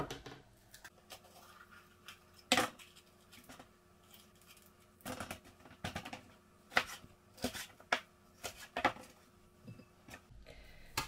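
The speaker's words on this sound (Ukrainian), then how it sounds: "ми почистимо болгарський перець від насіння та наріжемо його на такі дольки, на четвертинки" A knife cuts a bell pepper into quarters on a cutting board, giving a series of faint, sharp chopping taps and crisp slicing crunches spaced irregularly, heard close and quiet.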